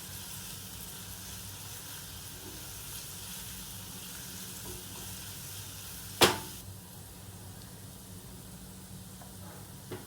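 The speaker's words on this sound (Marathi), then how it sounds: "याला पण तुम्ही 2-3 मिनिटं थोडं तेल सुटेपर्यंत भाजून घ्या" Onion and chili paste fries in oil in a pan, a soft steady sizzle throughout with one sharp clattering knock partway through, no voices.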